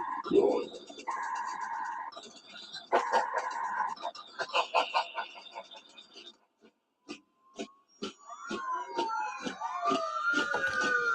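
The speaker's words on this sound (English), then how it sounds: "And there goes the siren." A rising and falling siren wails in the distance near the end, after a stretch of music-like tones and sharp clicks, with birds chirping.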